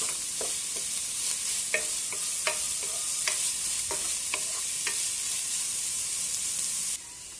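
Onions sauté in a pan with a steady bright sizzle, punctuated by light scraping and clinking stirs at irregular intervals, close up and without talking, the hiss dropping slightly near the end.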